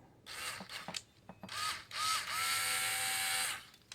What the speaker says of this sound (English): there's the Tacklife Cordless Screwdriver